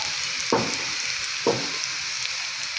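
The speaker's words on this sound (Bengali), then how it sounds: "এই আমি ডালটা বাগার দিচ্ছি, এর মধ্যে পেঁয়াজ" Onion and garlic frying in oil as a tempering for dal, a continuous close sizzle with two sharp bursts of stirring or spatula scrapes.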